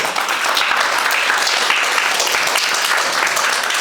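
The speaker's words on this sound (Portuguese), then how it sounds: "Umas palmas para o Miguel" Applause for Miguel at a Portuguese gathering, steady dense clapping from a crowd, loud and close, lasting throughout without a break.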